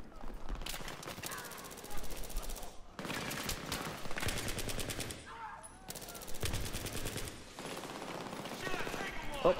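Battlefield 3 gunfire from a heavy weapon: three long, loud bursts of rapid automatic shots, separated by brief pauses, with a voice faintly under the shooting.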